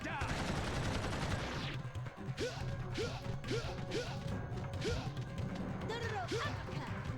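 A gun-arm fires repeatedly in the Blood Will Tell (Dororo) action game, a run of sharp cracking shots at a regular beat after an opening crash, loud and close, with game noise behind.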